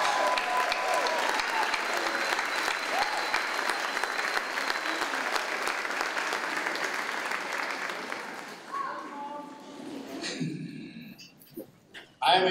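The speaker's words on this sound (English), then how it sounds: "Graduates, please join me in giving a rousing round of" Graduating class and guests at a 2018 Flashpoint Chicago commencement break into long, rousing applause that stays full for about eight seconds before tapering off, with scattered voices and a few late claps near the end.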